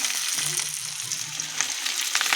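Capsicum sizzling in a hot frying pan, a bright continuous crackle and hiss with light stirring, fairly close.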